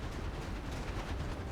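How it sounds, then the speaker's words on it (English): An explosion in the Darksiders Genesis video game: a dense, rumbling, crackling blast that fills the short moment at steady loudness, with no voices. "Explosion."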